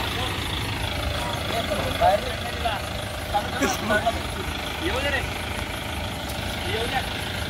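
A tempo truck's diesel engine idles with a steady low rumble while a bull is loaded aboard, people talking and calling out nearby over the engine.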